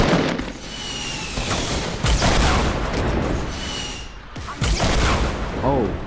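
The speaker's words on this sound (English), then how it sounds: "Oh, they're shooting." Fortnite gunfire in a 50v50 match: dense bursts of rapid shots and booms, loud and close, with a player talking excitedly over the top.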